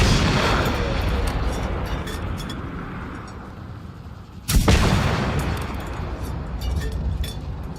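An enemy in Generation Zero fires through a fence, with a sharp loud gunshot crack cutting through a steady noisy background about halfway through.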